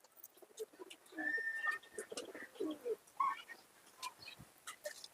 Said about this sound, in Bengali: ডান দিকটা মাদা পায়রা আর বাম দিকটা নর পায়রা।